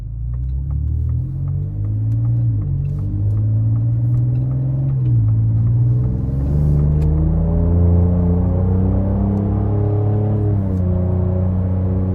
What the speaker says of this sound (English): I just switched it to the sport mode exhaust